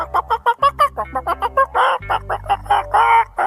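A cartoon character's voice imitates a hen's clucking in a quick, loud run of short, choppy clucks followed by longer drawn-out squawks.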